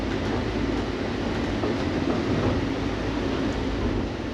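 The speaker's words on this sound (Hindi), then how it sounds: "ऑटोमेटिक स्मॉल जो ट्रेन है" Automatic small shuttle train running between airport terminals, heard from on board as a steady, loud low rumble with faint rail clatter throughout and no talking.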